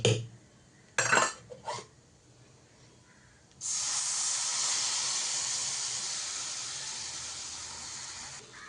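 Mango puree poured into a pan of roasted coconut and semolina for mango laddu, after a few clinks of utensils, then a strong steady sizzling hiss that carries on for several seconds and slowly fades.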